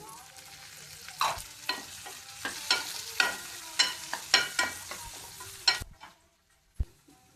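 Tomatoes and ginger garlic paste frying in a pan for chana masala, sizzling under a quick run of scraping stirs and clacks before it falls nearly silent, then one last tap.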